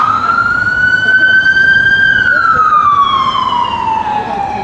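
A loud police siren wails steadily and then drops in pitch as it passes along the street on the Danforth in Toronto's Greektown, over constant traffic rumble.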